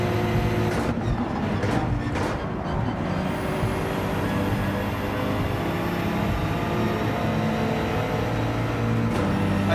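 BMW Gr.4 race car engine in Gran Turismo 7 on Grand Valley reverse, a loud sustained drone with steady tonal whine and brief shifts, close and continuous.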